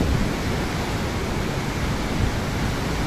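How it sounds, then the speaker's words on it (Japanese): Oshinkoshin Falls, a waterfall in Shiretoko, Japan, heard as a steady, dense roar of rushing water that holds even and continuous throughout with no voices. "うわ、おしんこしんの滝、知床八景"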